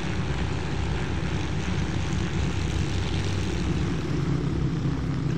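A simulated twin-engine Cessna 310 propeller aircraft drones steadily and loudly in a flight simulator game, an unbroken engine roar with no talking.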